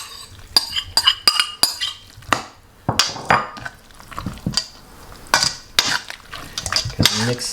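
Vegetables and thyme are mixed into an egg and leftover bread casserole mixture, with repeated close spoon scrapes and clinks against the bowl in uneven strokes.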